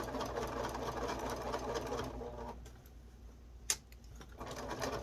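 Sewing machine back stitching a cloth mask with an aluminium nose strip, a faint steady mechanical whir that pauses briefly around a sharp click, then resumes.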